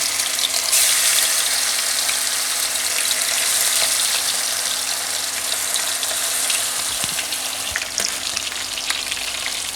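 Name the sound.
marinated chicken malai tikka sizzling in a hot pan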